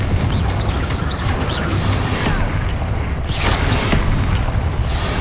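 Spell blasts in Hogwarts Legacy, fire and explosive Incendio and Confringo casts, give dense, loud rumbling bursts and booming impacts layered over constant combat noise, with a few sharp crackling peaks.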